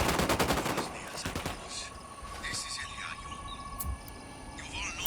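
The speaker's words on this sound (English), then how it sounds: "I'm opening fire on these shitheads." Rapid automatic gunfire in Ghost Recon Wildlands during a firefight with cartel gunmen, a loud opening burst of closely spaced shots that fades into scattered distant fire over ambient insect chirping.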